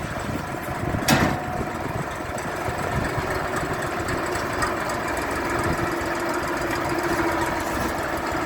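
Orion RD-244 four-wheel-drive 24-horsepower mini tractor engine idling during loading, a steady rumbling drone held at an even level throughout, with one brief knock near the start.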